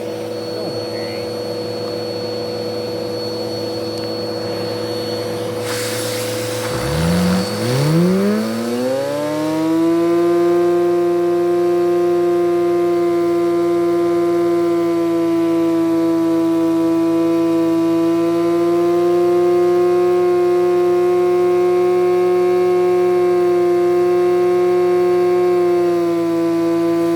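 An LVT engine revving during an RPM test: after a quiet idle hum, the revs climb sharply around the midpoint into a loud, sustained high-pitched whine that holds steady to the end.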